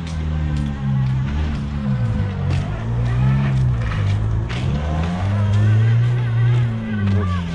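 A car engine revs and labors repeatedly while struggling to start on snow, rising and falling in pitch, loud and close, with a few voices mixed in.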